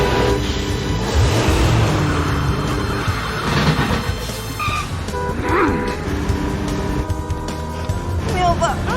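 A car engine roars as it accelerates to overtake during a chase, with rising and falling revs and tire noise close up, while voices shout over it.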